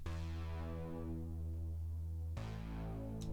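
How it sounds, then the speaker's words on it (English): A sustained synth chord is squashed hard by a PreSonus compressor on its Synth Duck preset, a dense even drone with the level held flat, shifting to a new chord near the end, with no voices. "You can see here that this is going to seriously compress this synth"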